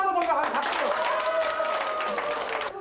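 An audience claps and cheers at a camp game for homeless people, with dense, sustained applause throughout and a voice speaking over it.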